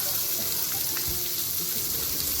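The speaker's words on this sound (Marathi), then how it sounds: "कांदा आपला बघा भाजून झाला तेलामध्ये" Chopped onion frying in oil for sev bhaji gives a steady, close hiss of sizzling throughout the short stretch, with no voices.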